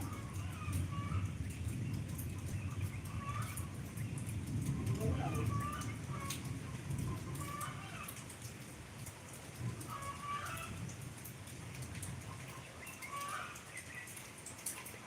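Steady rain falls outside during a light thunderstorm, a continuous broad wash under scattered bird calls, with a person talking intermittently over it.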